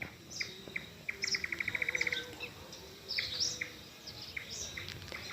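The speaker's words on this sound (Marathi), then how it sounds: "मस्त पक्ष्यांचा किलबिलाट" Small birds chirp and tweet at a distance, including a quick run of repeated rapid notes, over a faint quiet background.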